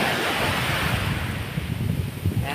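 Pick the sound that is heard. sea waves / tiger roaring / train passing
sea waves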